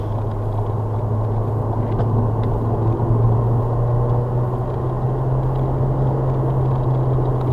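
A Ford Fiesta ST fitted with a REVO RT330 setup drives out of the pits onto a race track on cold tyres, heard as a steady, loud engine drone with a constant low hum and no talk.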